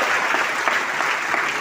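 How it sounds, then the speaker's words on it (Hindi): Audience applause fills a hall during a business talk, a dense steady wash of many hands clapping at a constant level with no voices over it. "तालियां बजती रहेंगी"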